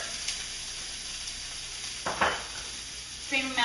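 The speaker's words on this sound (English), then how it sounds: "Next, we'll add our veggies. I have about half of a red pepper" Half a red pepper hits a hot frying pan with a steady soft sizzle, then brief crackling flare-ups as the pieces land and are stirred.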